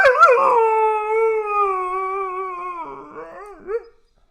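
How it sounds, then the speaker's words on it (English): A pet dog gives a long, loud, close howl of about four seconds that wavers in pitch, trailing off into a short yelp at the end with no talk over it. "Say, give an awoo."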